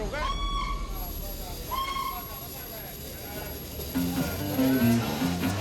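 The Miradouro steam train runs through bends in the Douro Valley toward Tua, sounding two drawn-out whistle blasts over steady rolling rumble. Later a tonal, horn-like hoot comes in, and the whole passage is heard under a voice speaking.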